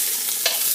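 Butter browning in a pan gives a steady, soft sizzle with a brief louder crackle partway through, heard alone at close range.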